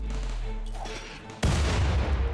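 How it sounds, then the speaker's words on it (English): Grenade blasts in the RimWorld video game on an ice sheet map: a low rumbling shot pattern, then one loud, sudden broadband explosion that keeps roaring through to the end. "And now we want to throw grenades right here where they hit both of them."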